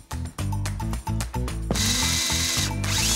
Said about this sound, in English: before I do that, I'm gonna drill the other one and then you'll see both of them in action